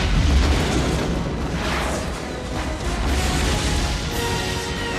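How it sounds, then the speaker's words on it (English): A tower of fireworks in Disney's animated Mulan explodes in a loud, sustained roar of booms and crackling bursts that fills the whole stretch without pause. "the helpless villain is sent flying into a tower of fireworks, blowing to smithereens"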